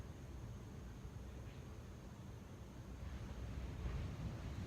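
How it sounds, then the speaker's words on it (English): Ocean surf rolls steadily at night, a broad continuous wash with wind buffeting the microphone, building slightly toward the end, with no voices. "You can hear the ocean from here."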